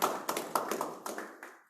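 Brief round of hand clapping from a small group at a community mentoring session, a few sharp distinct claps in quick succession that fade out within two seconds.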